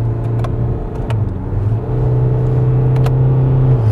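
A 2019 SsangYong Korando with a 1.6 diesel engine accelerates, its steady engine drone rising under cabin rumble, heard from inside the car with no talking.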